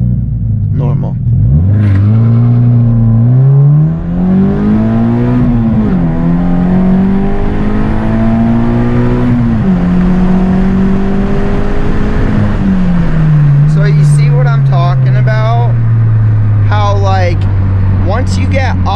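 A supercharged Subaru BRZ accelerates hard, its engine note climbing through high RPM in several rising sweeps with gear changes between, loud and close inside the car, ending in sharper revving bursts.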